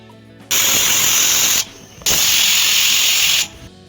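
A pressure cooker holding vegetable pulao lets off loud, harsh whistles of escaping steam. There are two long bursts of about a second each with a short pause between them, close and with nothing else heard.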